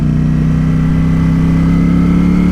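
A 2020 Ducati Streetfighter V4 S in sport mode runs along a bumpy resurfaced road, its engine a loud, steady drone with rumbling road and wind noise, heard close up from the rider's position.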